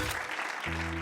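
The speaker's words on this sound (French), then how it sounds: "J'aimerais tout d'abord que nous applaudissions nos vainqueurs" A short burst of cartoon audience applause for contest winners, moderately loud and blending with a sustained musical tone underneath.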